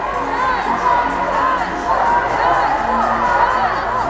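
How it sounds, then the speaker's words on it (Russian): Hockey fans of both teams cheer and chant in an arena, a loud, continuous crowd roar with rising shouts and whistles, a commentator's voice running beneath it. "Активизировались болельщики и той, и другой команды."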